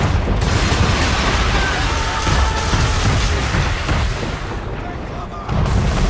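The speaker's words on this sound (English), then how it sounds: "Man of war's firing!" Man-of-war warship cannons fire in a naval battle in Assassin's Creed III, a dense, continuous rumble of heavy booms and blasts that fills the whole stretch, loud and close, with no clear pauses.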